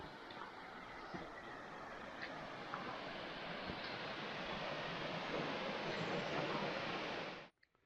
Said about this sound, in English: There's water falling into the loch.